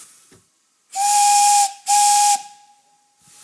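A large-diameter bell whistle on steam locomotive 563 sounds two strong, steady blasts, each lasting under a second, with a clear tone over a loud rush of steam and a softer hiss trailing after.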